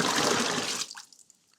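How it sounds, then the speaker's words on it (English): Recycled paper pulp poured into a papermaking tub already holding water, a loud sloshing pour that stops abruptly, followed by a few scattered drips. "We're going to pour our pulp into the tub."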